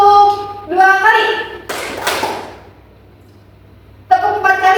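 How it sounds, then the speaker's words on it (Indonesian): An audience claps twice on command: two sharp, close bursts of group claps in quick succession between stretches of a speaking voice, followed by a brief hush. "Tepuk 2 kali."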